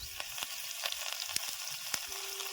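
Cumin, asafoetida, chopped garlic and green chili sizzle in hot oil for a village-style tempering, with a steady crackle and sharp pops, close up and with no voices.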